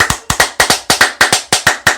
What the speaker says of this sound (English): Double booty clapping sounds!